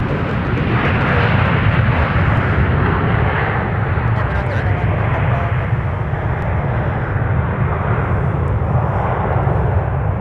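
An airliner takes off at MSP airport, its loud broadband jet engine roar holding steady and close throughout.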